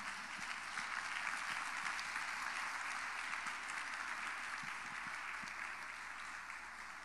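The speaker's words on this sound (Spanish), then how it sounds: "Démosle un aplauso al Señor." A church congregation applauds in a continuous, even wash of clapping that stays fairly quiet and slowly fades toward the end, with no talk over it.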